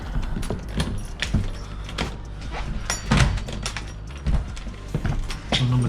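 A van door being unlocked and opened: keys jangle and clatter, then a latch clicks and the door thuds and rattles nearby, with no talking.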